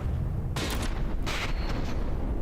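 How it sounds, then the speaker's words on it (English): Mortar shells strike a ship in the naval combat game From the Depths: two loud, broadband blasts about a second apart, each bursting briefly over a constant low rumble. "Mortars actually reached their mark here."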